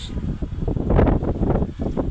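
Strong outdoor wind gusts roar steadily against the microphone under a darkening sky just before rain, a dense, rushing noise swelling and easing with no talk.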